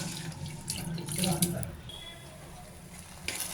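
Water is poured from a glass into a pot of rice, a short splashing run that swells for a second or so and then fades, with a faint trickle afterwards.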